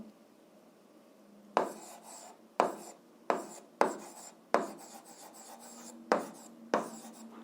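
Chalk or marker writing a formula by hand on a board, a string of sharp scraping strokes in quick bursts with brief pauses between, close and clear with no talk over it.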